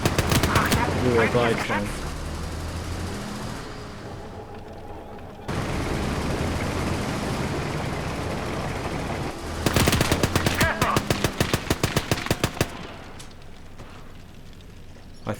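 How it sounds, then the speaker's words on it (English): Machine gun fire in the Gates of Hell video game: loud rapid bursts of automatic fire, first a dense rattle, then a steady roar of battle, then another fast staccato burst, with someone speaking briefly over it. "there was some machine gun fire going on"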